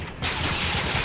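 Gunfire in the Fortnite video game comes as a dense, continuous burst of rapid shots that starts abruptly after a brief quieter moment and stays loud and close to the end.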